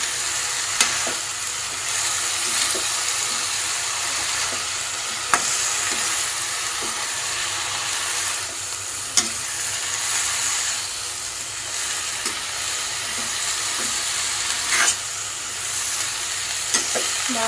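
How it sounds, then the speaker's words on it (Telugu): Flat beans fry in hot oil with a loud, continuous close sizzle and hiss, while occasional sharp spatula taps ring out against the pan. "బాగా కలిపేసి మూత పెట్టి ఉంచాలండి"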